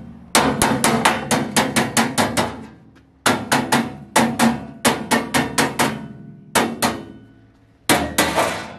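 Hammer blows tapping a toolbox into place on a service truck, loud sharp metallic strikes in quick bursts of several hits, pausing between groups, close and ringing with no talking.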